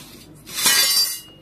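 Dishes and utensils such as spoons, ladles, a jug, a tray and a bucket are gathered up as event tableware is borrowed, making one brief burst of glassy clinking and clattering, close and moderately loud.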